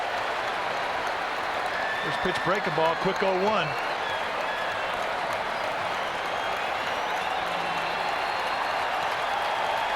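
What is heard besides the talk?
baseball crowd roaring after a foul ball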